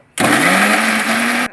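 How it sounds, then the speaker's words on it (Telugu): A kitchen mixer grinder whirs loudly as it grinds coconut pieces, running steadily for just over a second before cutting off abruptly. "కొబ్బరి ముక్కల్ని మిక్సీ పట్టుకోవాలి."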